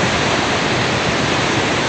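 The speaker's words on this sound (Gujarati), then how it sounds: "આ પાણી જે સાબરમતીમાં અત્યારે વહી રહ્યું છે" Polluted water carrying industrial sewage flows along the Sabarmati river in Ahmedabad, a steady, dense rushing wash that holds at an even loudness throughout, with no voices.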